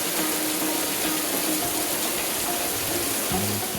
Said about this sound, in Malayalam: മഴയും കൂടി പെയ്തപ്പോഴാ കൂടുതൽ ഭംഗിയായത്